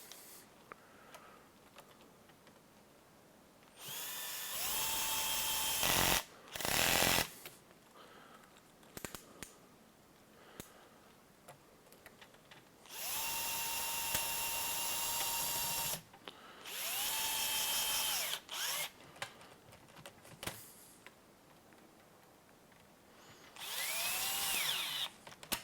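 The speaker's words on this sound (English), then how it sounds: "Then we'll get out our wrench and tighten them down." A battery-powered wrench tightens screws during an RC car build, several short whirring bursts of the motor separated by quiet pauses, with small clicks and handling noises between runs.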